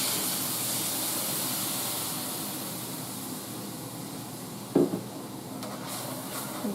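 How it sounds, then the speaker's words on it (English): Milk added to a hot pan of pork chops over medium heat gives a steady, close sizzling hiss that fades slightly, with a brief clatter near the end. "I'm going to add just a little bit of milk"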